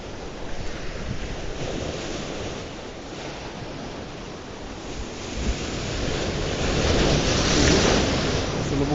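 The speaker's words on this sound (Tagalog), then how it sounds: "Malakas ditong alon." Strong sea waves surge and wash continuously around a fishing spot, with heavy wind buffeting the microphone; the roar swells louder toward the end.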